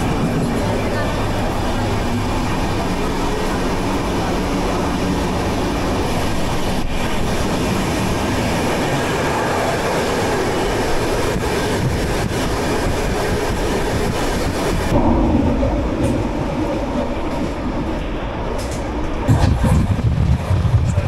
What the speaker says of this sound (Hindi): थोड़ा सा ट्रेन का दिखाते हैं कि ट्रेन में क्या क्या सिचुएशन इस समय है।